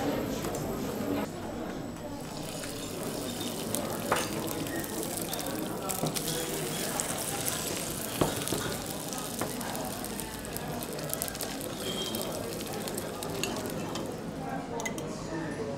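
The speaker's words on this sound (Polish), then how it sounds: "A ja w międzyczasie zacznę smażyć rybę." Steady hiss of fish frying in oil in a pan, with occasional clinks and stirring sounds and people talking over it.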